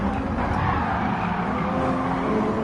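A GR Supra race car in a racing video game brakes hard into a corner, tires skidding and squealing under a loud, steady engine roar with no talking.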